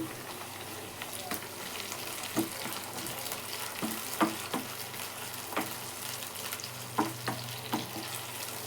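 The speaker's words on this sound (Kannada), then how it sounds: "ಈಗ ನಾನು ಒಂದು ಟೊಮೊಟೊ ಸೇರಿಸ್ಕೊತೀನಿ ಒಂದು ಟೊಮೊಟೊ ಕಟ್ ಮಾಡಿ ಇಟ್ಕೊಂಡಿದ್ದೆ" Chopped farm tomato sizzling and frying in a pan while being stirred, a steady frying hiss with soft scraping stirs and light clinks throughout, fairly close.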